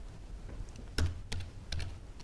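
Keystrokes on a computer keyboard while entering a virtual machine name and settings in a cloud dashboard, a few soft clicks building to three sharper clusters of taps, close and alone with no talking.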